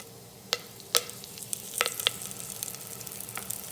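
Cardamom, cinnamon and curry leaves fry in hot oil in an Instant Pot, giving a soft steady sizzle with a few sharp crackles and pops, close and fairly quiet.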